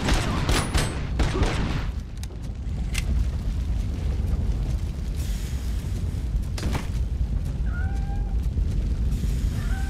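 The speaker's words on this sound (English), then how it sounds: "Run, little kitty. I hear another cat." A cat meows briefly in the RoboCop: Rogue City video game amid heavy background rumble, booms and gunfire-like bursts, with two short high meows near the end.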